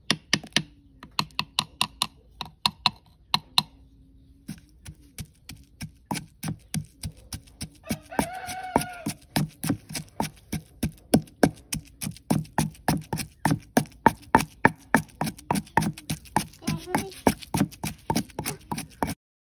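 Boiled chilies being ground by hand with a pestle for a Chakma village dish, a steady run of sharp rhythmic thuds close by, with brief talk partway through.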